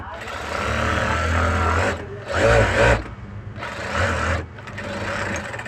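A sewing machine stitches a blouse in a few sustained runs separated by short gaps, its loud close motor hum varying in pitch, with a voice speaking alongside.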